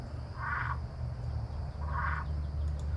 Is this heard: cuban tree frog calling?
yes